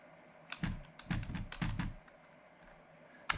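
Quick bursts of keystrokes on a computer keyboard come in three or four short runs, close and crisp, then stop, with a single faint tap at the end.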